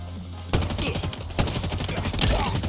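Rapid automatic gunfire in a Halo match, loud and close, with several sustained bursts of dense rattling shots across a few seconds and no talking.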